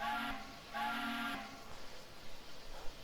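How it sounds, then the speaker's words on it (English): The steam whistle of an H9 2-8-0 locomotive in Train Simulator gives two loud, harmonic blasts: a short one, then a longer one, each followed by a fading echo and quiet background. "I actually really like the whistle"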